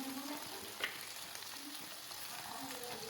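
Onions frying in a pan for a North Karnataka leftover-rotti upma, a faint, steady crackling sizzle with one quick utensil tap and no clear voices.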